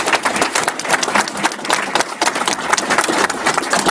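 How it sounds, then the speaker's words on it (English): Audience clapping at a school district board meeting, a busy, uneven patter of hands that is steady and moderately loud throughout. "And we get a round of applause for this."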